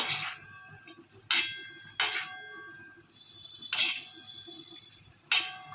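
A utensil stirs tawa pulao with cashews in a pan, producing faint, sparse metallic clinks and scrapes, about five distinct taps spaced irregularly over a quiet background.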